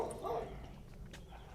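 Dogs guarding a home in a small Hong Kong village bark and yip in short, fairly faint bursts, with a brief whimpering tone, close by outdoors.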